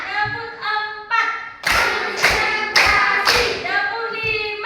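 A class claps a four-clap pattern in a classroom: four sharp, evenly spaced group claps ring out loud and near, with a voice speaking before and after them.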